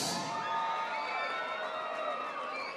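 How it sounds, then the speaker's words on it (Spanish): A boxing-event crowd roars and cheers for the fighters after a knockout, a dense, sustained wall of shouting and whoops with a sharp burst at the start, loud and continuous throughout. "Un fuerte aplauso para estos gladiadores."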